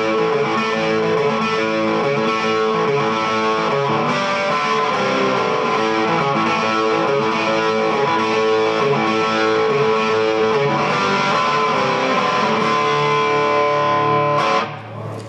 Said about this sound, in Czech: To je vlastně maximální úroveň zkreslení, kterou z toho voxe dostanete